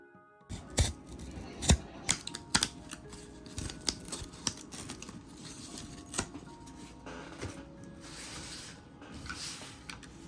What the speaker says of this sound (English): and I'm gonna cut it out now.